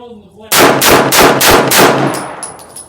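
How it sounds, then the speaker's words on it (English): Five sharp, loud shots from a Daewoo DP51 pistol fired in quick succession at a range, each with a short ringing tail, followed by faint metallic tinkling as the fire ends. "I'm gonna try a 5-shot rapid fire just to make sure everything functions well."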